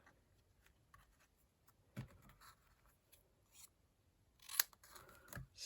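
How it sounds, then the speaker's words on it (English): Scissors snip through paper during a card-making craft session, a few quiet, crisp cuts spaced out over a faint background, with the sharpest snip near the end. "Snip off."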